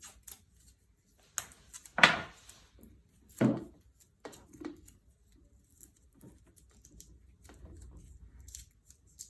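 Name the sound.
electrical tape being wrapped around cables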